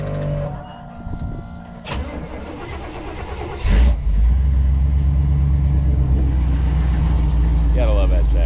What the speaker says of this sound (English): Nonetheless, let's fire this thing up.